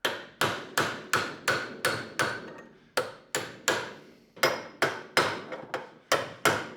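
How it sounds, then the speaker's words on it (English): A hammer pounding a wheel bearing off the hub of a BMW F30, sharp metallic strikes in a steady rhythm with brief pauses between runs, loud and close, no talk. "and then you just hammer it off"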